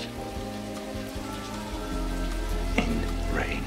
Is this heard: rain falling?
yes